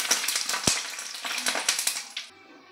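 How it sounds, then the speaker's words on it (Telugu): Green chillies frying in hot oil, a steady crackling sizzle with sharp pops and spits throughout, easing off near the end, heard close with no talking. "దానికోసం పచ్చిమిర్చి కూడా వేయించుకోవాలి"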